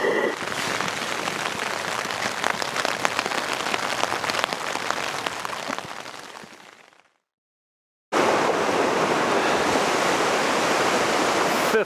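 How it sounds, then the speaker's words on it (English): Heavy rain falls steadily in the Brooks Range, Alaska, during a Dall sheep hunting camp, a dense, even hiss that cuts out briefly and then returns at full strength. "As you can see, we're getting lots of rain."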